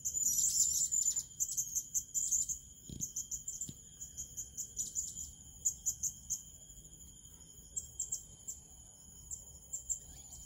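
Small birds chirp and trill outdoors in a steady stream of high, bright calls, densest at the start and then in short repeated bursts, with a couple of soft thumps nearby.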